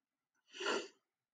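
A single short, breathy sneeze, fairly soft, with nothing else around it.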